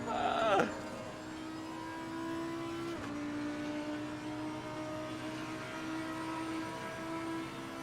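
An Audi race car in Assetto Corsa Competizione holds a steady, humming engine tone after a short high whine at the start, with one faint click partway through, moderately quiet and continuous.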